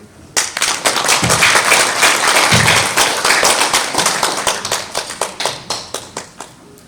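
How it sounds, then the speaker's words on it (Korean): A lecture audience gives loud, sustained clapping to welcome a climate-crisis lecturer, crisp individual claps forming a steady wave that thins toward the end. "큰 박수로 환영해 주시기 바랍니다"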